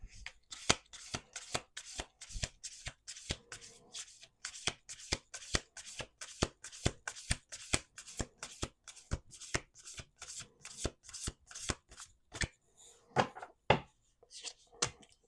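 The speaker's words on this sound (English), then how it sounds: "One more shuffle." An oracle card deck is shuffled by hand in a steady run of crisp riffling bursts, close and alone, with a few louder snaps near the end.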